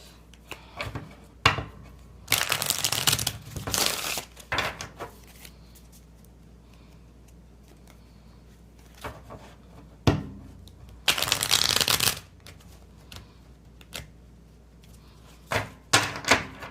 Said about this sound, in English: it would help if the cards were lined up so they could actually shuffle and bridge